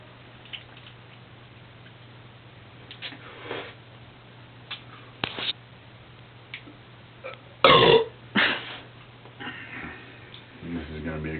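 Several loud burps after drinking Coors Light beer from a can, scattered through the clip with one strong burp near the middle, close to the mic and separated by quiet gaps and small ticks.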